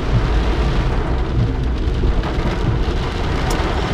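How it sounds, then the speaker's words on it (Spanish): A heavy thunderstorm pours down in a steady, dense roar of rain with a low rumble of thunder underneath, loud and continuous throughout with no voices. "no sé si me puedan ver porque está cayendo una tormenta"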